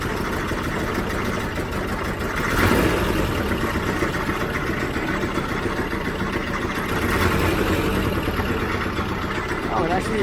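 Engine of a 1967 VW Type 3 Squareback running and briefly revving, a steady close mechanical drone that swells twice, with a person talking over it.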